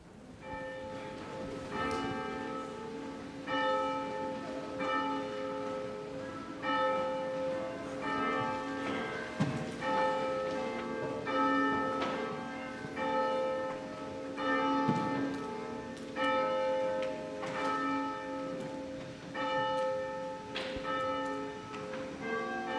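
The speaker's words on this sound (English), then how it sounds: "we begin with the ring of the bells" Church bells ring steadily before a Sunday worship service in Lent, clear repeated peals overlapping in a continuous resonant sequence with no voices.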